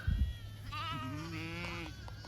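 Sheep on a pasture farm give one clear, wavering bleat after a brief thump, fairly close and alone without talk.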